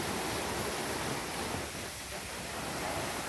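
Strong wind and choppy sea waves roll in along the Hua Hin seafront, a dense, continuous roar of surf and gusting air with no speech.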